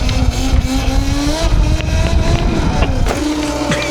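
RC car fitted with ETM Revolver Alpha upgrade motors running at full throttle, a loud continuous electric motor whine that shifts pitch as it speeds up and slows, with scrabbling tire and ground noise throughout.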